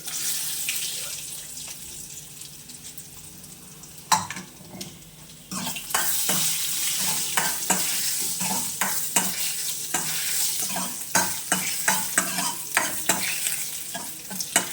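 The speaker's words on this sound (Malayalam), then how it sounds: "ഉള്ളി മുളകെല്ലാം മൂത്ത് നല്ല ടോപ്പ് കളറായി കണ്ടോ" Onions and chillies fry in a pan for a cucumber and mango curry, giving a steady sizzle with many rhythmic stirring scrapes, plus a short quieter stretch that sounds like running water before the frying and stirring resume, with no voices.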